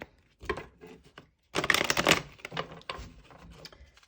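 Close, crisp rustling and riffling of tarot cards in short bursts, with a brief pause before a louder flurry of shuffling.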